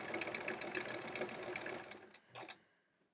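A sewing machine doing free-motion quilting stitches in a quick, steady rhythm at close range, then slows and stops, with a brief final burst of stitching before going quiet.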